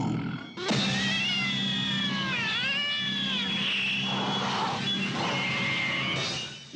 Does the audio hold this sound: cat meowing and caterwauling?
yes